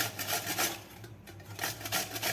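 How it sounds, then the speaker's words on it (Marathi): Peeled cucumber is rubbed against a grater in quick repeated rasping strokes, a close, rhythmic scraping with a brief pause midway and no talk. "आता आपल्याला हे काकडी खिसून घ्यायची आहे दोन्ही काकडे आपल्याला खिसून घ्यायचे आहेत"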